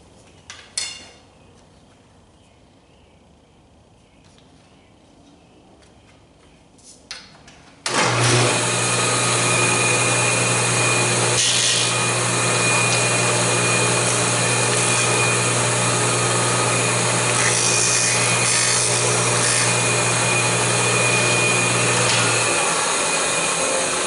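A table saw fitted with a nock and tip taper tool starts up after a few faint knocks and runs loud and steady, cutting wood continuously and ending only at the close.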